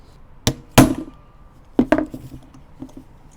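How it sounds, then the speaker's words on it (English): A hammer strikes a Phillips punch against a Toyota fan clutch: two sharp metallic blows, a pause, then two more close, ringing hits with a lighter tap trailing after. "This is going to be your friend, a hammer punch with a Phillips."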